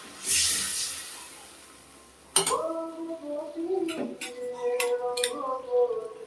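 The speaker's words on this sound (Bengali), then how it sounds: "এখন আমি জল দিয়ে দেব জল দিয়ে দিলাম" Water poured into a hot pan of frying onions with chili, salt and turmeric hits with a sudden loud sizzle that settles into steady bubbling and hissing, with a few utensil clinks.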